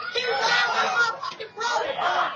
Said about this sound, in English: Like, there's a little kid screaming.